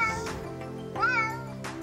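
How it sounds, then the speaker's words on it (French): Recorded cat meows play from a cat translator app's soundboard, two or three drawn-out tonal mews in quick succession, clear and close with no talk. "L'application traducteur en langage chat comprend également une table d'harmonie qui permet d'accéder instantanément à 16 des cris des chats le plus courants."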